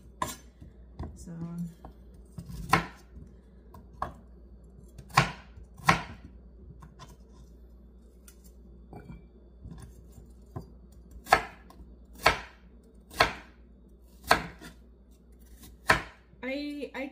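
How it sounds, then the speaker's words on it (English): Knife slicing radish on a cutting board for fermenting with ginger and garlic, a series of sharp, irregular chops spaced over quiet pauses, clustering more quickly toward the end, with a faint voice in the background. "I cut in slices,"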